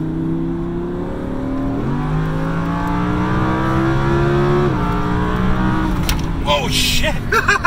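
An Audi R8 V10 sports car accelerates hard through the gears, its engine note climbing, dropping at each shift and climbing again, loud and close, with voices briefly audible near the end.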